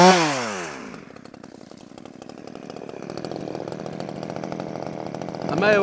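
A Proyama PCS26 chainsaw cuts tree limbs close by, sinking from a high whine into a steady bogged buzz as it cuts, then revving up again at the end.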